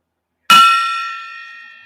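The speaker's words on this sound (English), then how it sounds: "Let's get that bell. We need a bell on that." A single bell struck once, a bright sharp clang with a clear ringing tone that decays slowly over more than a second in otherwise silence, with no one talking.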